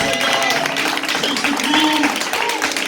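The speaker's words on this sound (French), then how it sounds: "on accompagne l'Amen avec une grande acclamation" Church congregation breaking into loud acclamation after an Amen during a sermon: a dense, sustained wash of applause and cheering voices with some sung or shouted tones, steady and close throughout.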